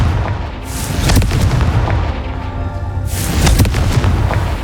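Confringo spell blasts in the game Hogwarts Legacy, loud booming explosions with rumbling tails, two big blasts close together over a dense battle din.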